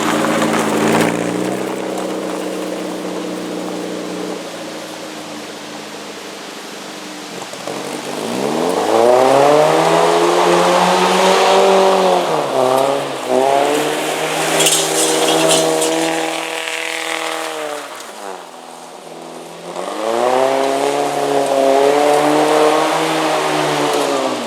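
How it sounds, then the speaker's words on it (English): An Austin-Healey Sprite sports car drives along a twisty country road, its small engine note rising and falling with clear revs and gear changes, loud and close throughout with no talking. "This is where the Austin-Healey Sprite really comes into its own. Nice, twisty country road."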